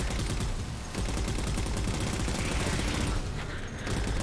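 A fuel rod gun fires in Halo 4 gameplay, with dense, continuous blasts and rapid crackling bursts that stay loud and close for the whole stretch.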